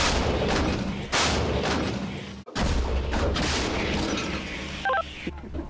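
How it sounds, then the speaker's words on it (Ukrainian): An M109 155 mm self-propelled howitzer fires heavy blasts in sequence, each a loud broadband crack followed by rumbling decay, with brief electronic beeps near the end. "Давай, Віталік, гармата! Постріл!"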